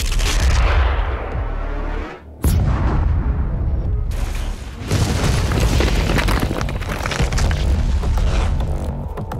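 Loud booming blasts from an ion catapult firing and heavy explosions in Doom Eternal, with a brief drop to near silence between bursts before rumbling detonations resume.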